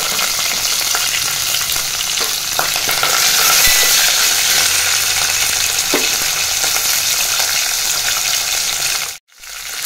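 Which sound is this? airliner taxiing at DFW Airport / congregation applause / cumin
cumin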